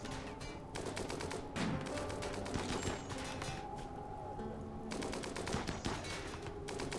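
Rapid gunfire aimed at a creature in a video game, dense bursts of shots in a continuous fusillade layered over game music and effects, loud and close, no talking.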